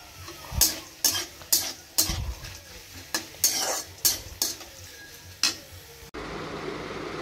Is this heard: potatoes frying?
yes